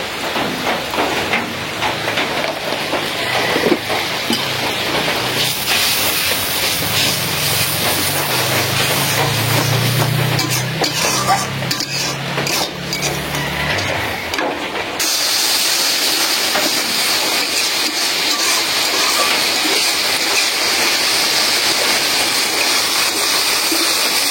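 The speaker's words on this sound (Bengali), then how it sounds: "মশলাটা কষাই নিলাম, একদম তেল উঠাইয়া কষাইলাম" Spice paste of turmeric, chili, coriander and cumin powders frying in oil, a loud continuous sizzle and hiss that shifts in texture partway through, with no voices.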